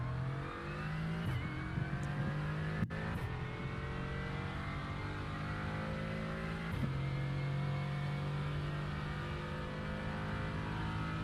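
A Mercedes AMG GT4 on Fuji's long straight in iRacing, engine climbing in pitch through the gears with quick shift breaks, a steady, close, unbroken roar with no talking.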